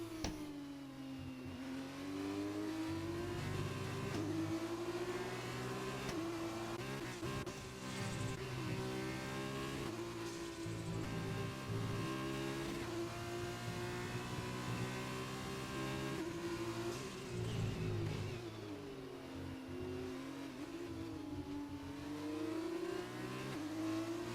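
Formula 2 race cars in an Xbox racing game at Abu Dhabi: a continuous loud engine whine rising and falling with gear changes and acceleration, several cars blending together, with no voices.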